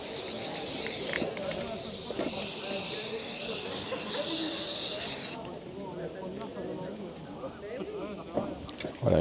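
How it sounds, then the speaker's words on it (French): Screen cleaning foam sprayed from an aerosol can makes a loud, steady hiss for about five seconds that then cuts off abruptly, leaving quieter room sound with someone speaking. "et on pulvérise."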